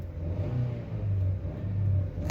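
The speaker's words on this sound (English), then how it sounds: "Let me accelerate." A 2008 Nissan Frontier pickup with a lack-of-power fault revving under acceleration, a close, loud engine drone that swells and eases in a couple of rising pulls, no voices over it.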